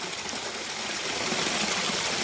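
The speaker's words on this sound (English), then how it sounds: "See the waterfall. Beautiful sound." A garden waterfall splashes steadily into an algae-covered pond in a private wildlife habitat garden. It makes a continuous, even wash of falling water, close and moderately loud, with no voices over it.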